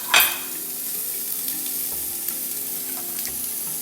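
Food sizzles steadily in a hot pan with little added fat, a close continuous crackle broken by small pops and light clatter.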